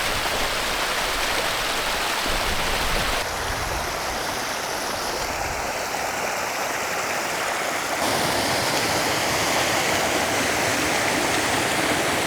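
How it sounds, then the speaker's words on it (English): A little mountain river tumbling over a few small cascades, a steady close rushing and splashing of water that fills the whole scene without pause. "Plus there's a little river with a few cascades on it."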